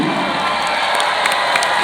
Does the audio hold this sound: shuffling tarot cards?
no